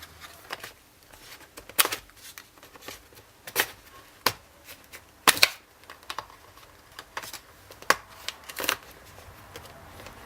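Plastic laptop part pried off with a credit card during cleaning of a portable PC cooler, giving a series of sharp clicks and snaps, some louder than others, scattered irregularly over quiet background.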